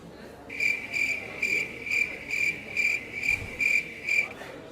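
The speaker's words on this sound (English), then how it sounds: "I much prefer the sound of crickets to chat" Crickets chirp in a steady, evenly spaced series of about eight bright trilled pulses, clear and fairly close against a quiet background.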